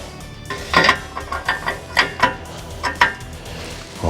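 Ratchet clicking on a 22 mm lambda sensor socket at the exhaust of a Golf IV 1.4i, a series of short metallic pawl ticks in uneven bursts, close and clear with no talking.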